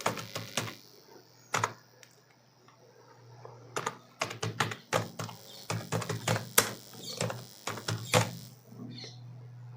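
Rapid clattery keystrokes on a computer keyboard while form details are entered, coming in uneven bursts with brief pauses, close and fairly quiet.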